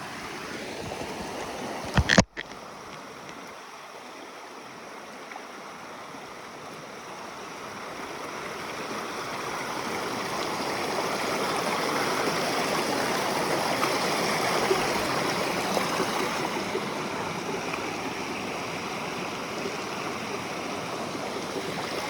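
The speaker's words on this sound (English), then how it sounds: "Nice little water crossing." Stream water flowing at a trail water crossing on the Appalachian Trail, a steady close rushing and babbling that grows slightly louder over time, with a brief sharp click near the start and no talking.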